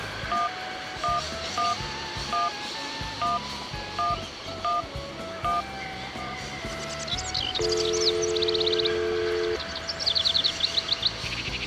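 Phone keypad tones sound in the game Syberia as a number is dialed, with evenly spaced beeps followed by a longer held tone and some chirping electronic effects over a steady ambient bed.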